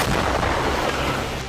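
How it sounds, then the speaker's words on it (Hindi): Russian artillery shells Ukrainian troops on the Kharkiv front line. A loud, dense roar of fire and blasts fills the whole moment without letting up. "रूस की आर्टिलरी ब्रिगेड ने खार्किव की फ्रंट लाइन पर मौजूद यूक्रेनी सैनिकों पर तोप से हमले किए।"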